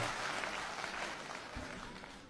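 Steady applause from a hasya kavi sammelan audience at a humorous Hindi poetry recital in Allahabad, a dense, even clapping that fades slightly toward the end, with no voices over it.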